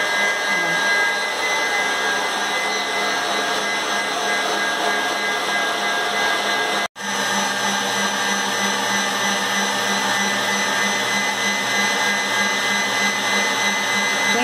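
An electric mixer whirs steadily as it beats homemade banana ice cream made from figo bananas, a loud, even motor drone that cuts out for an instant midway and then resumes.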